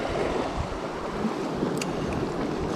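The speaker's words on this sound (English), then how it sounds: "Bit of a side wind today, and that's playing a bit of a havoc." Side wind buffeting a microphone at sea during a coalfish fishing trip, a steady broadband roar of wind and surf with a faint boat hum underneath, continuous and loud throughout with no voices.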